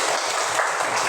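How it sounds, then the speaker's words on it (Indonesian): A classroom group claps briefly, a dense, steady patter of many hands close by with no voices over it. "Tepuk tangan semuanya."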